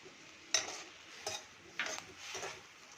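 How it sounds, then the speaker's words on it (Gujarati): Milk stirred into roasted edible gum in a pan, a few soft scraping swishes of a spoon at uneven intervals, quiet and close, with no talking. "હવે એમાં નાખીશું આપણે 2 કપ દૂધ. એને પણ મિક્સ આપણે કરી લઈએ."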